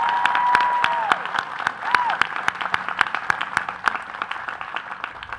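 An audience at a law school commencement ceremony applauds award winners with sharp, distinct claps that are close and loud, with a sustained tone and some voice sounding over them before the clapping thins out.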